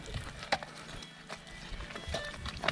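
Heavy draft horses in Ukraine shuffle and clop nearby, with occasional hoof knocks and faint snorting over a low, murmuring background.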